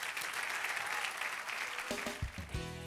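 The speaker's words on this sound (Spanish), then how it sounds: "Dale un aplauso al Señor." Church congregation applauding, a continuous wash of clapping at moderate distance that thins out near the end as a few louder tones and thumps come in.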